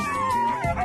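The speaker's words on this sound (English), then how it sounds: "Well, here comes the dogs." A sled dog lets out a short, loud, excited howl close by, a single wavering cry lasting under a second, heard alone without talking, during a dog sledding outing in Scotland.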